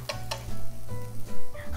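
Japchae ingredients stir-fried in a pan, a steady sizzle with scraping stirs and light clinks of utensils, while people talk over it in short bursts.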